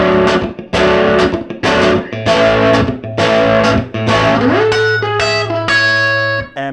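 Distorted electric guitar chugs through the verse chords of a song, with a sliding bluesy lick worked in near the end, loud and close, no talking.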